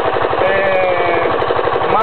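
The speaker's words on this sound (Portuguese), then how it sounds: "Máquina furadeira com cabeça de diamante, você já ouviu?" A diamond-head rock drilling machine hammers in a rapid, even rhythm, loud and close, with a faint voice underneath.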